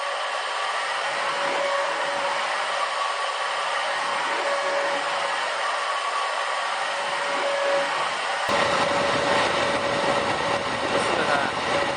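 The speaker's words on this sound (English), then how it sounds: "12-volt DC motor, very powerful fan, much more powerful than a desk fan" A powerful fan driven by a 12-volt DC motor runs with a loud, steady whooshing roar and a constant tonal whine, growing noticeably louder and harsher near the end.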